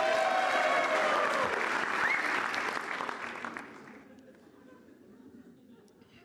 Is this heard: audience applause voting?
yes